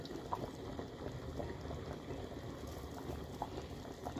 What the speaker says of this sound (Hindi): हाई फ्लेम पर इमली का जूस डालकर पकाने से इस तरह से ये अच्छा बॉईल होगा